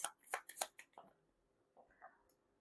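Tarot cards are shuffled close by in a few quick riffling bursts, then softer sliding and tapping as they settle.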